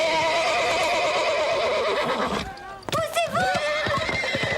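A horse whinnies loudly and shrilly at close range, then hooves scrape and thump as the animal shifts and rears, with a brief shout in the background.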